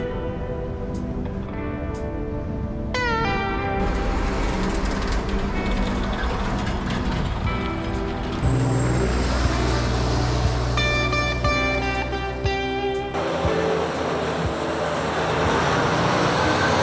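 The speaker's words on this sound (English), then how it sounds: "the sound and the constant barrage of them blowing by you." Heavy trucks blow past a touring cyclist on a highway near Ridgway at around 65 to 70 mph, a constant loud roar of tires and engines with successive passes swelling and fading.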